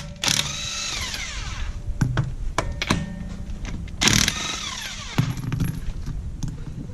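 DeWalt impact wrench spins lug nuts off a 2014 Toyota Camry front wheel, short whirring bursts with sharp hammering clatter, several separate pulls spaced a second or so apart, close and fairly loud.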